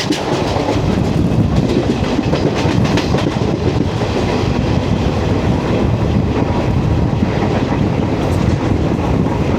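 Jan Shatabdi Express running through Kuttippuram station, heard from on board: a steady, loud rumble of rolling wagons with faint rhythmic clickety-clack and wind buffeting, continuous throughout with no talk.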